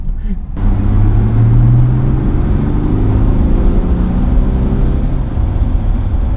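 A tuned VW/Audi 3.0 TDI with a Stage 2 tune rolls over speed bumps, its diesel engine and road noise forming a steady, close, low rumble throughout, with a brief thump near the start.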